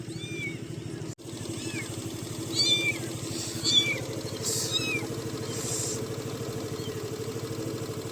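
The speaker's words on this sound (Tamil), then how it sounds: "இங்க ஒரு பூனைக்குட்டி." An abandoned kitten by a roadside at night, near a dark wooded stretch, gives several thin, high, short meows scattered through the clip over a constant low rumble of passing engines and traffic.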